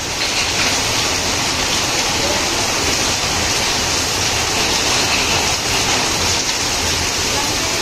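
Heavy evening rain pours down in a loud, unbroken hiss. The steady, dense wash of water holds at the same level from start to finish, with no pauses.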